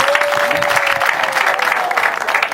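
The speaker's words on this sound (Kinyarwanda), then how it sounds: "Rega amashyi mubahaye, ni makeya rwose." A wedding crowd applauds with dense, sustained clapping that fills the whole stretch at a steady loud level, along with a faint tone held beneath it.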